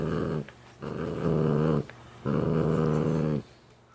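A dog growls in two long, rumbling bursts separated by short pauses while it plays with a toy owl, close and fairly loud with no one talking.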